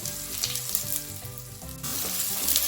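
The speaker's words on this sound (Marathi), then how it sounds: "आता आपण आपला कांदा आणि टोमॅटो छान प्रकारे फ्राय झालेला आहे. त्यानंतर आता लसूण टाकून घेऊया." Loud, steady sizzling from minced garlic dropped into onion and tomato frying in a pan for lasuni methi, with a bright crackling hiss that swells partway through, close and with no voices.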